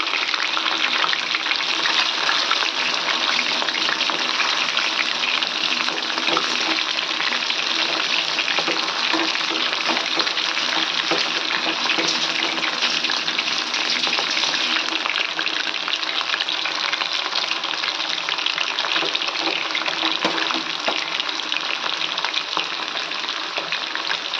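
Chicken 65 deep-frying in hot oil in a kadai gives a loud, steady, close bubbling sizzle that carries on without a break, with no talk over it.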